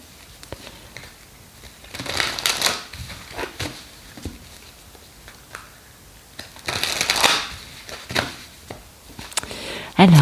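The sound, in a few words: shuffling oracle cards for a reading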